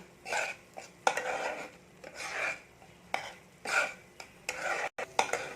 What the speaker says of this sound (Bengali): এবার আমি ভালো করে নেড়ে নিচ্ছি